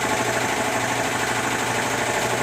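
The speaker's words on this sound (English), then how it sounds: "Alright, turn the air compressor on." An air compressor runs with a steady, loud, continuous mechanical drone and vibration in a garage where a 1950 Pontiac gasser's front end is being taken apart; no talking.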